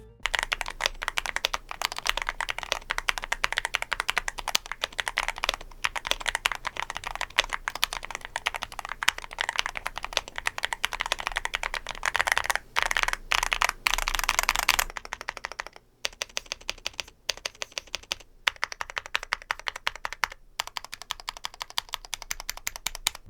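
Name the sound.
typing on mechanical keyboard linear switches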